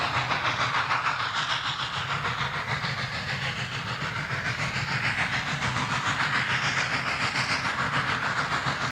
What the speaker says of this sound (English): This produces a repetitive chuffing sound as the locomotive is on the move.